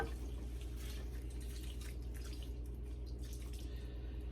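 Water being poured into a chicken and rice casserole made with onion soup mix: a soft, steady trickle and splash under a low background hum, faint and continuous.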